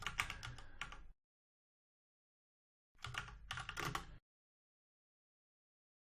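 Typing on a computer keyboard while configuring a network address: two short bursts of rapid, close key clicks separated by a pause of silence, with no talking.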